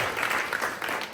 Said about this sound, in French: Par applaudissement, qui connaît?